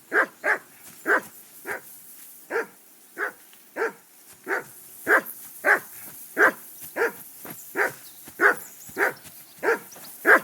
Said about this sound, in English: I assume you can hear that damn dog of yours